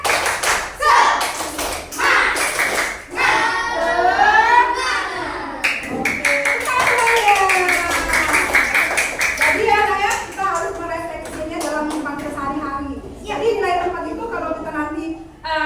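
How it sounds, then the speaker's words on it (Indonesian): A classroom of children performs a rhythmic spirit clap, tepuk semangat, in a math lesson: bursts of patterned group clapping alternate with loud chanting and shouted voices, close and lively. "Coba semuanya, tepuk semangat."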